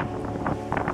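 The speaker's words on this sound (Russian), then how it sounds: "Ой, ветер сумасшедший." Strong wind gusts over the Yamtazh mountain summit in winter, buffeting the microphone with a dense, roaring rush. It swells in bursts toward the end.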